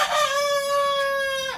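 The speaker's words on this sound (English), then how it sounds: "Hope you like the chickens, because they're gonna be a part of like every video" Rooster crowing from a neighbors' backyard flock on a Mexican homestead, one long clear drawn-out call at moderate distance, holding steady before tapering off, with no talk over it.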